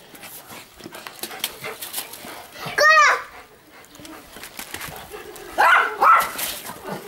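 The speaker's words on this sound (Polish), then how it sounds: "Co szczekasz?" A dog barks twice, in short loud bursts several seconds apart, amid a woman's speech and a child's chatter during play with a ball.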